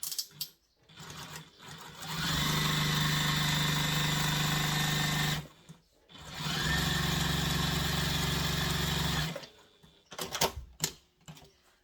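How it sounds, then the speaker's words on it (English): A sewing machine stitching two diaper-bag pocket pieces together runs in two steady, loud whirring bursts of several seconds each, separated by a short pause, with brief clicks and handling noises before and after. "we're going to stitch these 2 pockets pieces together"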